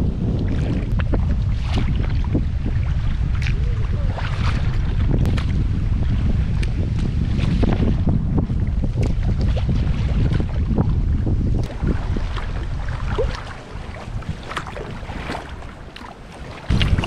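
Strong wind buffets the microphone on open water while kayaking, a loud, constant roaring rumble with gusty fluctuations that drops off into a quieter lull near the end, with no speech.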